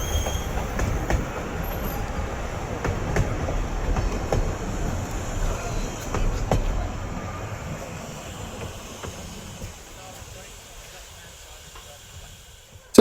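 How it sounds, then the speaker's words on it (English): A Welsh Highland Railway train near Snowdon rumbles steadily past nearby with faint wheel squeals, the noise slowly fading away toward the end. "we'll watch the train go in"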